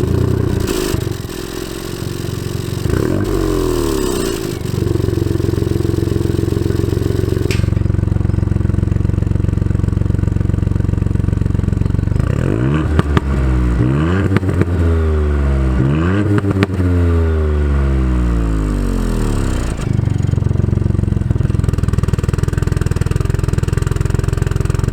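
A 2019 Ford Fiesta ST fires up in sport mode with its exhaust valve open, then idles loudly and gets revved in several sharp sweeping bursts, near and dominant with no talking.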